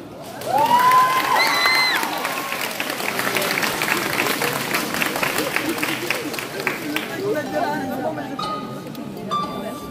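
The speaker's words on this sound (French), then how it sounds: "on va avoir un tonnerre d'applaudissements super super fort pour Yukimi" An audience at a French cosplay contest in Rouen bursts into strong applause and cheering, with a few whoops and crowd chatter mixed in. The clapping continues steadily for the full ten seconds.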